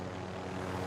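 Steady droning rotor and engine noise of a helicopter flying in a video game, continuous and fairly distant, with no talking.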